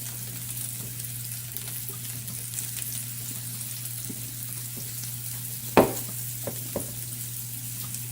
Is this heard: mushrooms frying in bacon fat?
yes